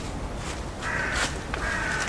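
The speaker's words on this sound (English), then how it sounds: "Can hear the creepy crows still." Crows caw from nearby trees in a Paris cemetery, Père Lachaise, giving a few harsh, rasping calls in quick succession over a soft outdoor background hiss.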